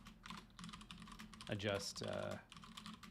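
Rapid keystrokes on a computer keyboard clatter in close, dense bursts, with someone talking quietly between them.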